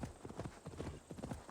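A white horse clip-clops along in Assassin's Creed Valhalla, its hooves striking in a steady, fairly close rhythm of repeated thuds for the whole stretch, with no voices over it.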